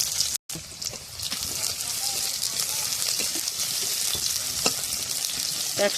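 Chopped onion frying in oil with cumin, chili and a bay leaf in a pan over a wood-fired clay stove, a steady loud sizzle with occasional stirring scrapes throughout.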